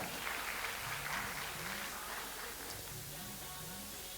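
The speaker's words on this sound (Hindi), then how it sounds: "जोरदार तालियां हो जाए" Crowd applause at a teachers' award ceremony in a hall, a soft, steady patter of many hands clapping, fairly distant and faint, with a quiet tonal voice or music running underneath.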